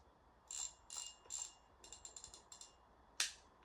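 An Endura 6000 fishing reel spins, its ratchet clicking in short bright bursts, a few spaced whirring clicks followed by quicker ticks and one sharp final snap, close and quiet with no talking.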